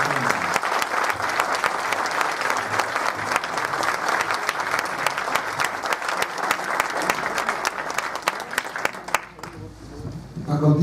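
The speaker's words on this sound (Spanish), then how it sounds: "les pido un aplauso para nuestro presidio." An audience at a book presentation applauds steadily for about nine seconds, a dense, even wash of clapping that thins out toward the end.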